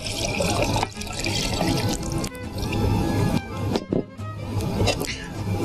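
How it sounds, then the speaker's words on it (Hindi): Yakhni stock poured into a pot of mutton korma, a steady liquid splashing and gurgling close by under continuous talk. "और अब इसमें यखनी डालेंगे"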